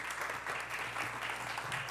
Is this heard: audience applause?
yes